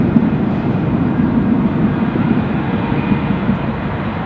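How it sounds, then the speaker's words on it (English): British Airways airliner arriving at Newcastle airport, a loud, steady low engine roar that fills the whole moment without fading, no talking. "I'm just going to plonk us over with the British Airways arrival"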